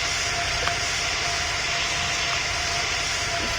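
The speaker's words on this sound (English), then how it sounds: "Let's see if we can take off in this short piece of runway." Steady jet engine roar of an airplane in the PTFS video game as it powers up for takeoff on a short runway, a constant even drone with no breaks.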